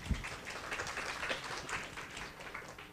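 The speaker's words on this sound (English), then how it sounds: "Let's give everyone a big round of applause, to yourself, to the people, speakers, and the workers here." Faint, continuous applause from an audience at an international pharmacy conference, a quiet patter of many hands clapping at a distance with no voices over it.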